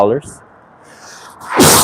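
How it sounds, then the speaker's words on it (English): A person sneezes once near the end, a sharp burst preceded by a short vocal sound, outdoors on a hiking trail at Runyon Canyon in Hollywood, Los Angeles. "Sorry, I sneezed."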